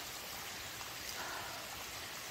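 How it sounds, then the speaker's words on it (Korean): A mountain stream swollen by heavy rain trickles and rushes steadily near Songchu Falls, a soft constant watery hiss with no voices. "물이 지금 비가 많이 와서 이렇게 졸졸졸졸 이렇게 흐르고 있습니다"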